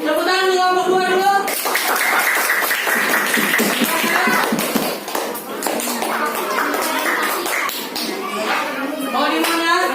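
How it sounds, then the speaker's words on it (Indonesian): A classroom group claps their hands together in a busy, overlapping burst, with children's voices chattering over and through the clapping. "Tepuk tangan di kelompok 2 dulu."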